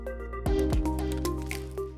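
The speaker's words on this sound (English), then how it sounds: "Open the water supply and rinse for at least 30 seconds." Water rinsing through a CboxQC CO2 and O2 meter: close, steady flowing water with squishy gurgles and a few drip-like pops, without talk.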